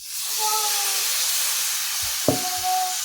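Mustard paste sizzles as it is stirred and fried in a pan for a Bengali mustard-based dish, a steady close hiss with a single sharp clank of the spoon near the end.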